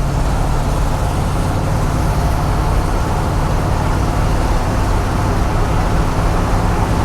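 A Chevy Squarebody pickup truck with Flowmaster dual exhaust drones steadily, heard from inside the cab with both windows down, a constant low rumble with road and wind noise and no talking.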